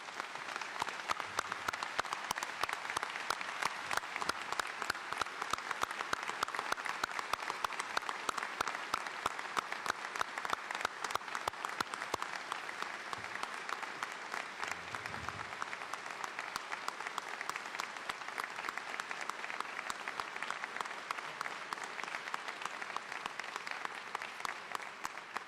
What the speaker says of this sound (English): would you please give a great senator, a great Hoosier, a round of applause, Senator Dick Lugar.